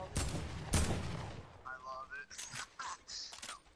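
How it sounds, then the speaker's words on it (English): Gunfire in Fortnite, two loud close shots early on followed by scattered game sound effects, heard under people talking. "Well, stop shooting us then."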